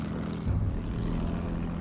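A propeller warplane in the Battlefield 1 video game drones steadily, with a slight swell as it passes close overhead.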